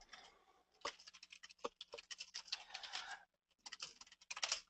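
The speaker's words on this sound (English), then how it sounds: "I can hear you typing away" Quick, irregular clatter of keys on a computer keyboard, close and fairly quiet, in bursts with a brief pause near the end.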